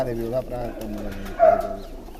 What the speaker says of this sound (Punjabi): ਬਾਈ ਹੁਣਾਂ ਨੇ ਆਪਾਂ ਨੂੰ ਕਬੂਤਰ ਦਿਖਾਏ ਸਾਰੇ